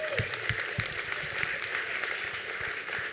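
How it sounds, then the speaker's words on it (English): Audience at a fundraising gala applauding steadily, a dense wash of many hands clapping throughout, fairly loud and sustained, with a few nearer individual claps standing out. "Give yourselves a big round of applause."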